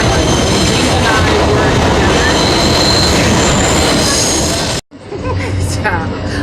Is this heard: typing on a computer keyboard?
no